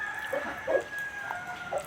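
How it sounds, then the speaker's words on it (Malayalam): Soft, scattered clucks from chickens feeding nearby, a few short calls spread over a couple of seconds against a quiet outdoor background. "ഈ കോഴികളും കാക്കകളും ഒക്കെ ഒന്നിച്ച് ഭക്ഷണം കഴിക്കുന്ന കാഴ്ചയാണ്"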